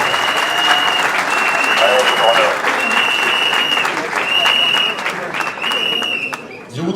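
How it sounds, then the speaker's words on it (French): Audience at a congress ceremony applauding frenziedly, a dense sustained wash of clapping with crowd noise and a steady high tone running underneath, easing off briefly and fading at the end. "Applaudissez-les."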